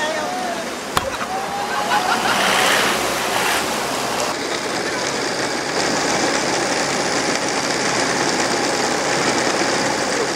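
Floodwater from the rain-swollen Bagmati river rushes in a continuous broad roar, loud and steady, with a sharp knock near the start and a change in the wash partway through.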